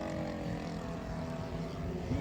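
RC model B-17 bomber with engine trouble, its engines running rough and down on power, a continuous droning buzz with uneven low pulsing, heard alone and moderately loud.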